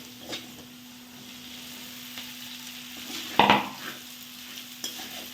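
Sabudana tipped onto shallow-fried potato in a pan, with a faint low frying hiss, a few light clinks, and a short clattering scrape of stirring near the middle.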